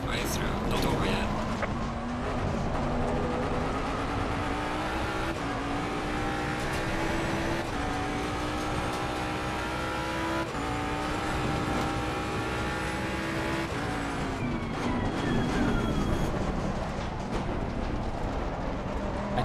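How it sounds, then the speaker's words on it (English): A race car engine in the Assetto Corsa Competizione racing game roars continuously, its pitch climbing through the gears with a drop at each upshift, loud and sustained, with some tire noise. "I can't do anything about the car noise."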